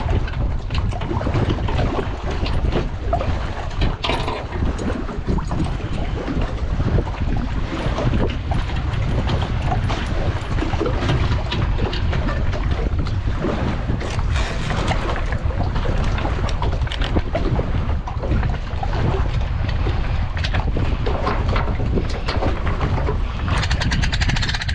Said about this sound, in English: Wind is not nice.